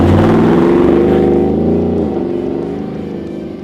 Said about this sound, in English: getting on the throttle with this thing, like I said earlier, the tone is really, really nice